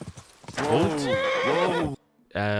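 A horse in Kingdom Come: Deliverance II gives a loud, close whinny lasting over a second, rising and falling in pitch, then a short snort after a brief gap, with hoof clopping at the start.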